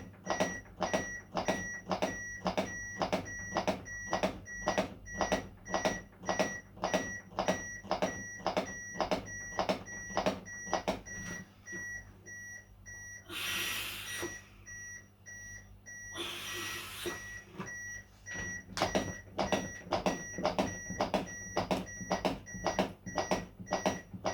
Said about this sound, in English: it actually beeps to the correct speed and rhythm that you should be going